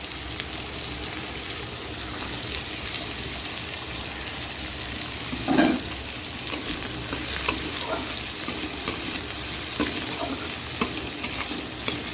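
Chopped onion stirred into goat fat frying in a pan, with a steady close sizzle throughout and scraping stir strokes, including a louder knock near the middle.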